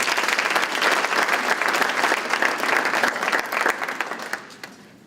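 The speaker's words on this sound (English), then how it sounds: "So that is something that we should give a round of applause for." A round of applause from the audience at the YMTF opening session, full dense clapping that holds steady for a few seconds and then tapers off to quiet.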